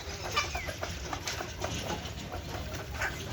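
Sonali chickens on a poultry egg farm give soft, scattered clucks and short calls at close to middle distance over a steady background hum.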